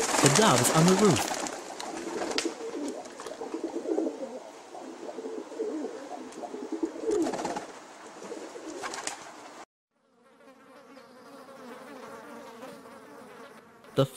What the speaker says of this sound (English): The doves on the roof.